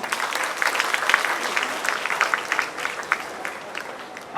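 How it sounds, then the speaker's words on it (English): Audience clapping at a Diwali festival celebration after a music performance, a scattered, moderate round of applause with individual claps standing out, fairly steady before a sharper burst at the very end. "Let's appreciate them once again with a huge round of applause."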